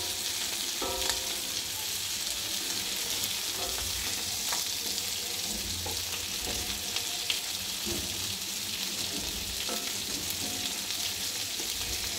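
Sarpunti fish fry on a large tawa with a steady, close crackling sizzle, dotted with small pops and occasional light scraping of a spatula.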